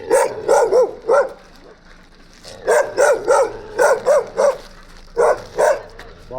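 A large Armenian gampr dog in Abovyan barks loudly and close, in short bursts of two or three deep, booming barks separated by brief quiet gaps.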